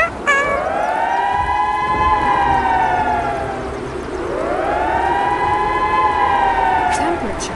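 A wailing siren rises and falls in two long, slow sweeps, loud and steady, like an outdoor warning siren carrying across open air.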